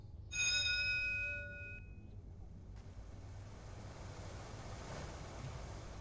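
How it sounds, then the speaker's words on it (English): Doorbell in Fahrenheit: Indigo Prophecy rings once with a clear two-tone ding-dong chime that fades after about a second and a half, followed by a steady hollow windy ambience. "Ring the bell again."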